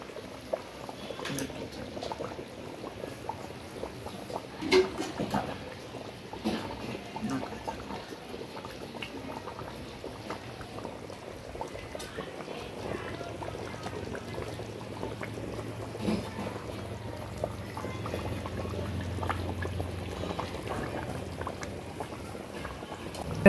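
Fish curry bubbles gently in a pot as it cooks and is stirred, with soft, continuous simmering and faint scraping throughout.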